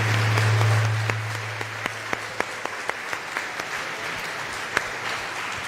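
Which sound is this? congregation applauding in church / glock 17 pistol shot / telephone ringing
congregation applauding in church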